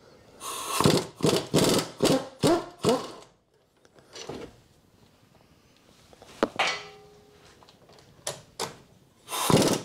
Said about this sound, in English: we've got two 15mm bolts, which I'm going to undo with a gun